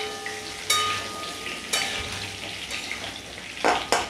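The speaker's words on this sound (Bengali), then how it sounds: "এবার আলুগুলো দিয়ে দিলাম, দিয়ে এবার এটাকে একটু ভেজে নেব।" Potatoes frying in a pan with cinnamon and cardamom for niramish aloo dum, a constant close sizzle broken by a few sharp scraping stir strokes.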